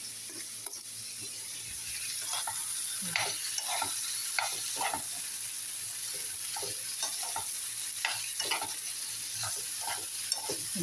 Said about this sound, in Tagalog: Lalagay na natin ang palaya natin